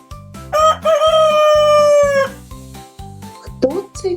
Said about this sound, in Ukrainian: Як півник з нами розмовляє? Кукареку, кукареку.